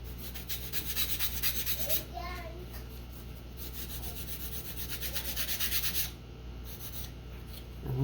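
Sanding a balsa wood nose block for a Guillow's Lancer rubber-powered model airplane: quiet, rhythmic rubbing strokes repeat steadily up close, with faint voices in the background.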